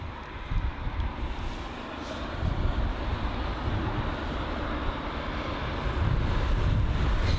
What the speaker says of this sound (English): these 767, they do really sound old